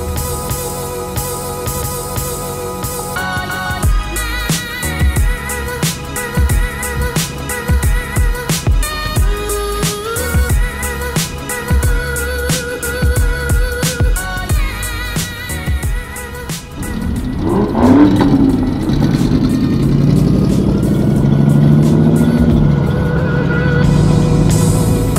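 A bus cruises downtown during the Goshen Cruisin' Reunion, with music playing at first, then a heavy engine rumble swelling loud and close as it drives on.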